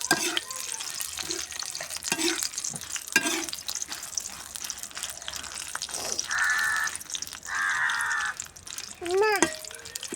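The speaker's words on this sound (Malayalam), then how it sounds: "വറ്റൽ മുളക് ഇടും കേട്ടോ. ഇങ്ങനെ പൊരിച്ചെടുക്കുക പറ്റും." Dried red chillies fry in coconut oil in a pan, sizzling and crackling under a person's intermittent talk, with stirring and brief bursts of hissing partway through.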